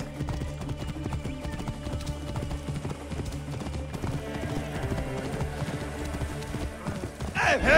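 Rapid, rhythmic hoofbeats of a galloping horse in Assassin's Creed Origins pound steadily and close up, layered over a low droning background, with no talking.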